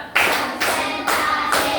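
A class of students claps in unison in a classroom, the claps falling at an even pace and closely spaced, loud and near with no talk over them.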